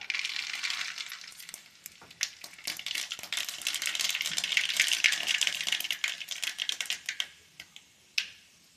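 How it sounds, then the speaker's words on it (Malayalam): Mustard seeds splutter in hot coconut oil as dense rapid popping and crackling, thinning out toward the end into a few isolated sharp pops; quiet, close, no voices. "കടുക് പൊട്ടിയിട്ടുണ്ട്."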